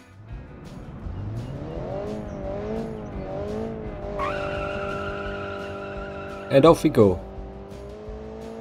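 A heavy car with an 1100cc engine and new tires, driven on a track in the car-design game Automation, revs up through rising gear changes and then lets out two sharp tire squeals as it skids, with someone talking over it.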